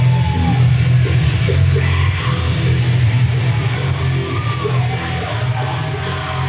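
A wrestling event crowd in Arizona screams and yells continuously, a loud dense roar of many voices that holds steady throughout with no break.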